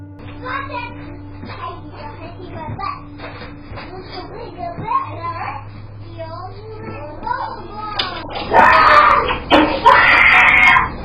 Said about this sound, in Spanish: uno de ellos gritó como si hubiera visto algo que lo dejó perturbado